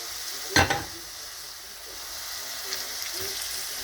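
Onions frying in a roasting pan as the base for goulash, a faint steady sizzle running throughout, with a sharp clatter from stirring or a utensil near the start and a few soft knocks later.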